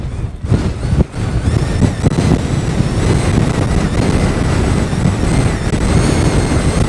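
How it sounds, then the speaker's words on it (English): Strong gusting wind on a mountain at about 775 meters in the Welsh Black Mountains, a loud steady roar battering the microphone with surging gusts and a faint whistling tone above, and no voices. "That is pretty windy, that."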